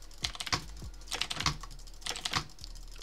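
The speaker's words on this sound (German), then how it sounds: "ich mache jetzt ganz entspannte Double-Taps" A computer mouse is clicked in relaxed double-taps, crisp paired clicks repeating in a steady rhythm, close and alone.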